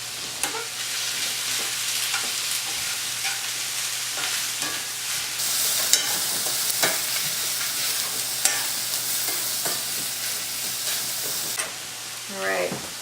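Shallots frying in a hot pan for steak give a close, steady sizzle with scattered crackles and pops, running alone without talk.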